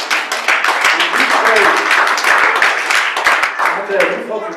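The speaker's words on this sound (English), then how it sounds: "you folks are quick clapping until I'm done" Church congregation in Philadelphia clapping steadily with bright, dense, sharp claps during a lively service, a voice talking over the applause throughout.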